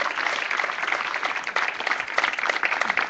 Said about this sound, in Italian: Io vorrei fare un gran bel applauso.